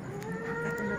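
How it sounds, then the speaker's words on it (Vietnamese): A pig's drawn-out, moaning cry sounds close and continuous during a home slaughter of a small 15 kg pig, over steady background noise. "Con lợn. Đấy."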